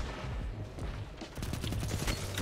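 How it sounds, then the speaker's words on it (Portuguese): Gunfire in the video game Destiny 2: after a brief lull, a rapid string of sharp shots rattles off in quick succession. "Um tiro."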